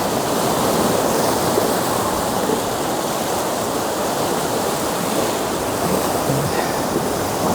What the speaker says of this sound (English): Just look at the height of those waves.